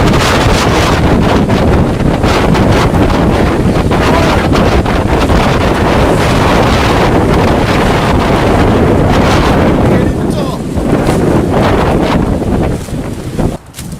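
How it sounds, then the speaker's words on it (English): Strong wind blows across a hilltop in Bolton Notch State Park, Connecticut, roaring steadily into the microphone as loud, constant buffeting for most of the stretch before easing slightly near the end, with no talking. "Man, that wind is blowing."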